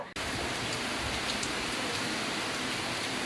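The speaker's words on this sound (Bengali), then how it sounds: "খুব জোরে ঝড় বৃষ্টি হচ্ছে" Heavy storm rain pours down steadily in a dense, continuous hiss, loud and unbroken throughout, with no voices.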